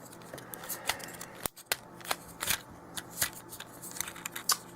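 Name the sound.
folding plastic pieces of a Transformers Sideswipe toy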